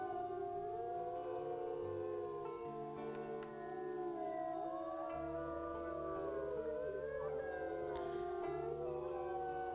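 Several wolves howl together in the WolfQuest video game, long rising and falling wails layered and overlapping at a steady loudness, with a low hum beneath them.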